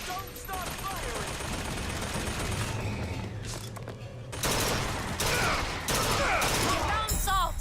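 Heavy gunfire in the video game Bioshock Infinite, sustained volleys and mechanical clatter filling the scene, growing louder and denser in the second half, with shouted voices mixed in.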